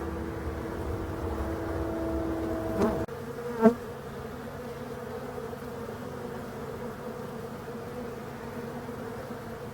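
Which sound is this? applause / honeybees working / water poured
honeybees working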